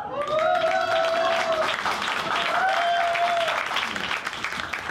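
A packed audience at a violin recital in Seoul claps and cheers loudly in dense, sustained applause, with bright whoops and sustained shouted cheers riding over the steady clapping throughout.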